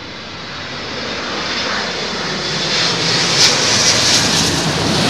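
An airliner roars loudly and steadily overhead as it aborts its landing and goes around in high winds at London Heathrow, the broad engine noise swelling slightly toward the end with no voices.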